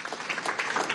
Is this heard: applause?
yes